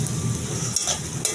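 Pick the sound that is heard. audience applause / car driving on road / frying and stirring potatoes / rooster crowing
frying and stirring potatoes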